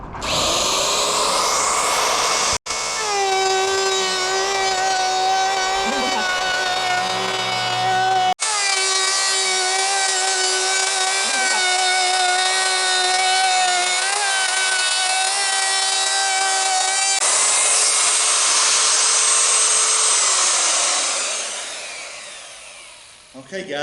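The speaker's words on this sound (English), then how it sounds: "get my router started" Electric router cutting a groove along a wooden board for a simple cabinet drawer, a loud steady high whine running nearly continuously with brief dips, then winding down at the end.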